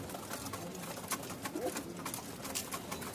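Pigeons cooing at a busy pigeon market in Mirpur-1, with soft, repeated coos and bird calls over a faint background hubbub.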